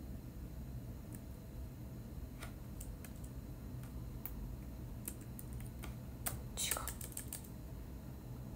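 Light, quiet clicks of typing on a portable keyboard sound in sparse bursts, tapping irregularly over a soft background hiss with a brief quick flurry near the end.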